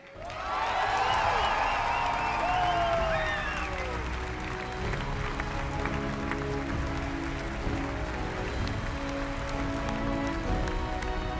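A large audience at the Bethesda E3 2015 conference applauds in a dense, steady roar that stays loud throughout, with some whistles and cheers rising at the start.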